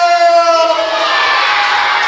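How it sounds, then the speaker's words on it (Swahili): A crowd of children and adults at a confirmation celebration in Tabata shouts cheers together, loud and close, with a sustained voiced shout at the start dissolving into a broad roar of mixed yells and whoops. "Sema cheer!"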